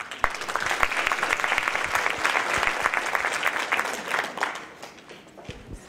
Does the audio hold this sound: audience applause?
yes